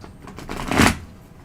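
Tarot cards shuffled by hand: a short riffling burst that swells to a peak near the middle and fades quickly, close and fairly soft.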